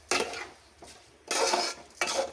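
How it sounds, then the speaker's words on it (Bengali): Soaked rice and lentils stirred in a pot for chicken khichdi, three or four separate scraping, rustling strokes with short quiet gaps between them, close and moderately loud. "দিয়ে এবার আমি বেশ করে চাল ডালটা নাড়বো"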